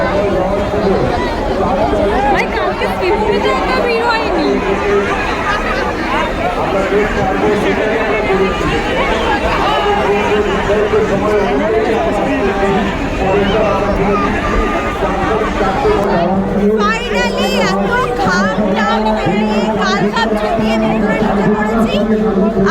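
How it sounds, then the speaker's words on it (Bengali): Dense crowd chatter and hubbub fill a busy Durga Puja pandal in Kalyani, a steady wall of many overlapping voices and footsteps throughout, close and loud with no pauses. "আর সামনের ভিড়টা তোমাদেরকে দেখাচ্ছি"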